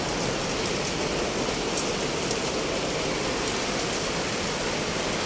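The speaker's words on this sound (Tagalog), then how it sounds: "Grabe, ang lakas na naman ng ulan." Heavy rain pours down steadily outside a warehouse as a dense, even hiss with scattered drops striking surfaces, unbroken and loud throughout.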